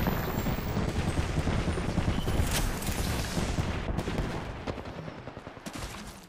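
Dense gunfire in the video game Apex Legends strikes the player, a continuous loud barrage of rapid shots and impacts that fills the whole stretch before thinning slightly near the end, with no talk.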